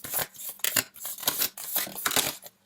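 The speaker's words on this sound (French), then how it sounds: "On va sortir une dernière carte." A tarot card being drawn and shuffled from a deck, a quick run of crisp papery snaps and slides, close and fairly loud, with no talking.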